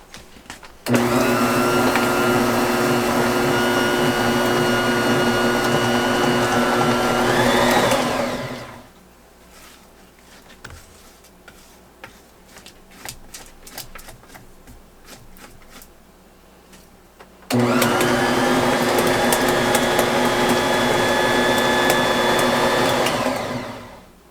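An electric mixer creams peanut butter cookie dough, a loud steady whirring motor hum running for several seconds, stopping into quieter clinks and rustling, then whirring again at full volume before cutting off.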